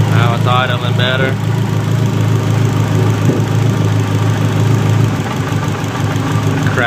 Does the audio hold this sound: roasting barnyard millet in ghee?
no